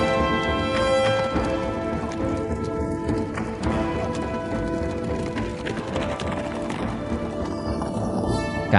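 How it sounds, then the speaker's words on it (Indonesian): Horses galloping in a race, rapid overlapping hoofbeats drumming steadily and fairly loud, mixed with dense background noise and dramatic music. "Wem, Ayo balapan kuda."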